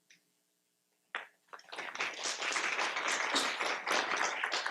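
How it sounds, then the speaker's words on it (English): Audience applause for a telemedicine company presenter, breaking out abruptly after a brief near-silent pause and quickly swelling into sustained, fairly distant clapping from a crowd. "I'll pause more often for just random applause"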